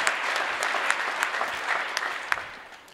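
Church congregation breaking into sustained applause to acclaim the Lord during a sermon, a steady dense clapping wash with a few sharper claps standing out, moderately loud throughout.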